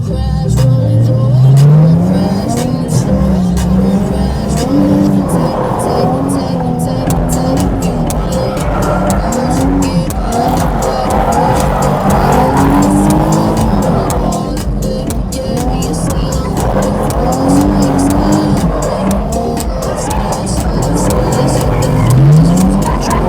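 Cars drifting around Five Flags Speedway, a race track: loud continuous engine roar with revs rising and falling, tires squealing and skidding throughout, heard close from inside the action, with faint voices beneath.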